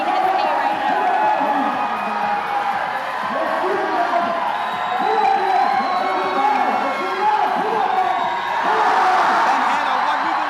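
A crowd at the 2019 Yank N Yard climbing competition finals cheers and roars in a steady, swelling wash of noise, while a commentator talks over it throughout.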